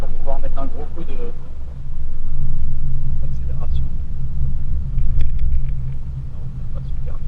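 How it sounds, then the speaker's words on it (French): A Tesla Model S Plaid accelerates hard on a straight road, heard from inside as a deep swelling rumble and road roar that rises and falls. A voice speaks over the engine and road noise. "Je vais attendre d'être en ligne droite pour pouvoir mettre un gros coup d'accélération."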